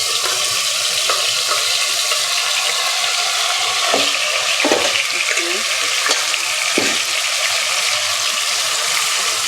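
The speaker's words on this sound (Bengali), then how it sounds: "আমরা এখন চিকেনটা নিয়ে যেটা ম্যারিনেট করে রেখে দিয়েছিলাম ওটা এখন ভেজে ফেলবো" Marinated chicken breast fries in a pan with a steady, loud hiss and sizzle, broken by occasional clicks and scrapes of stirring, close up and with no talking.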